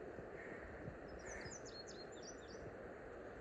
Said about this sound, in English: Look at the birds up in the trees.